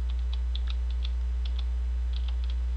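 A computer keyboard clicks as keys are pressed to close browser tabs with Control W, a dozen or so light, irregular taps close to the microphone over a steady low electrical hum.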